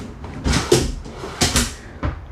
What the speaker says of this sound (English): Soft closing drawer.